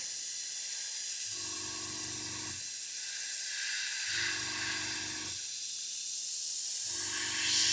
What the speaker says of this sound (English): I should thin it a touch more really, but it is spraying beautifully.